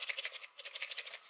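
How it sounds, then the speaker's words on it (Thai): A light, empty black plastic surprise egg shaken close up gives a quick rattle of about a dozen rhythmic bursts from a small loose object knocking inside, faint and alone. "ลักษณะไข่จะเป็นสีดำๆน้ำหนักก็ไม่มีนะครับแต่ว่าเขย่าเนี่ยก็จะมีเสียงประมาณนี้ครับ"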